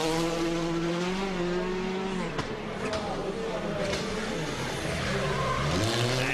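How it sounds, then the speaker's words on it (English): Rally cars on snow tyres slide through sweeping hairpins at a 2007 Monte Carlo Rally superspecial stage, engines droning steadily with rising and falling revs and a faint squeal of tyres, loud and continuous throughout. "As expected, plenty of sliding on those snow tyres around these sweeping hairpins at either end of the circuit"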